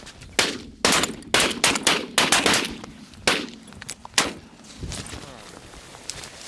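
Shotguns firing at geese on a late-season goose hunt, a quick volley of about ten loud, close blasts from more than one gun, overlapping at first and then spacing out, with a couple of final shots trailing off.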